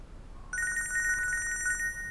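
An electronic phone ring starts after a brief quiet moment, a steady warbling trill that pulses rapidly and continues for over a second, fairly close and clear.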